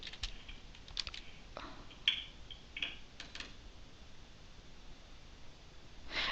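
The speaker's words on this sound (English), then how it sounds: "now you just need to type your last name" Scattered key presses on a computer keyboard while a last name is entered, soft clicks in a few short clusters over a quiet background hiss, with no speech.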